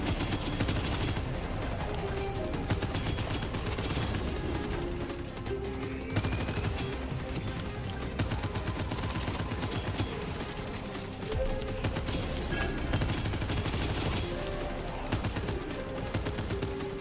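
Weapon fire from the video game Abyssus, a dense, continuous barrage of gunshots and bursts layered with game effects, loud and sustained throughout with no pause.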